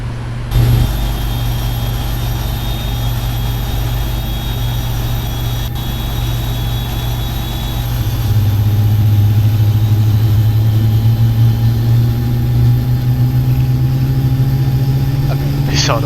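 Engine number 2 of a Boeing 777-300ER in a Prepar3D flight simulator spools up under a steady rumble, its rising whine climbing gradually over several seconds; loud and continuous, recorded close.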